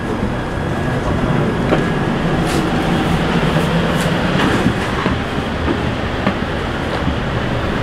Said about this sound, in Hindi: तो दोस्तों ये है मेरे सामने उदय एक्सप्रेस जो कि डबल डेकर ट्रेन है